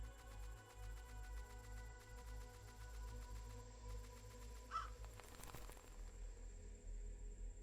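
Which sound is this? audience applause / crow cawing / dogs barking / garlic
crow cawing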